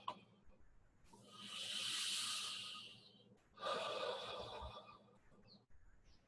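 Slow, deep breaths during a guided meditation, two long airy inhales or exhales heard close and soft, separated by a brief pause.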